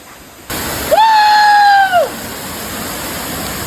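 A waterfall swollen by heavy rain sends up a steady broadband rush, while a loud tonal call like a rooster's crow rises over it for about a second midway.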